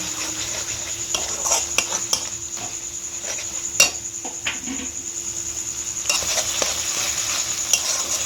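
Fish being sautéed with spice masala and poppy seed paste in a pan for doi katla, a steady low sizzle broken by repeated scrapes and clinks of a spoon against the pan, close and with no talking.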